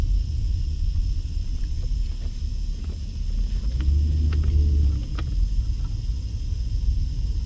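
A Pontiac car turns around on a street near Twain and Swenson by the Las Vegas Strip, a steady low engine rumble with wind noise that swells briefly midway, then settles.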